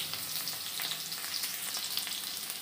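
Okra frying in a pan, a steady soft sizzle and crackle of hot oil that holds even throughout, with no voices over it.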